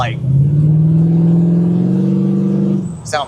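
A 1969 Chevrolet Camaro restomod with an LS3 V8 revs up under acceleration, a loud, throaty engine note climbing steadily for about three seconds before cutting off.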